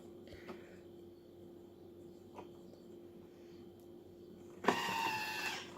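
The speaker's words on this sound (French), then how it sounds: "Je vais tout simplement mettre le couvercle et mixer 10 secondes vitesse 10." A kitchen blender with its lid on mixes crêpe batter with melted butter at top speed; a steady low hum runs before the motor bursts into a loud, harsh whir that carries through the final second.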